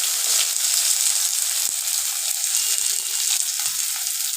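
Chopped onion frying in oil with cumin, a loud continuous crackling sizzle close up, steady throughout with a few faint knocks underneath.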